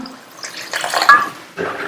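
Water pours briefly into a pan of gravy, a short splashing gush that swells and then trails off.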